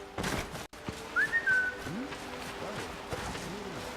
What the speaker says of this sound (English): Inigo, whistle with me, will you?